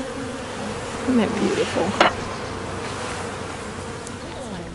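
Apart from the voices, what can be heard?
honeybees buzzing around a hive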